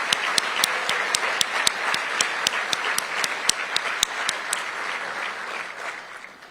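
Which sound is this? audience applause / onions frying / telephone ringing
audience applause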